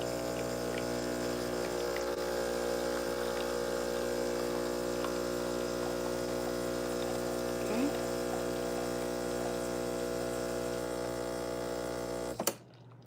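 Espresso machine pumping a double shot, a steady low mechanical hum with layered tonal drone running evenly throughout, a brief voice in between, and the pump cutting off abruptly near the end.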